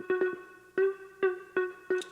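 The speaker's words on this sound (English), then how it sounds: "And then I added some Valhalla Vintage Verb." Synth lead run through Valhalla Vintage Verb reverb, a rhythmic riff of bright staccato notes whose tails smear into a continuous wash of reverb between hits, heard alone.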